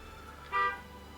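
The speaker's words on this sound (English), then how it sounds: "and somebody honking their horn outside." A single car horn sounds outside, a short, muffled toot lasting about a quarter second over quiet background hum.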